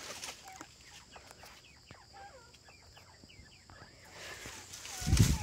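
Sharp, whistled calls of a bobwhite quail in an aviary repeat in quick succession against a quiet background, with a brief burst of rustling noise at the end.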